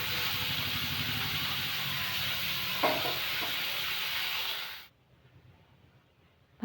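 Potatoes frying in a pan: a loud, steady sizzle with a faint stirring scrape midway, which cuts off abruptly into near silence for the last couple of seconds.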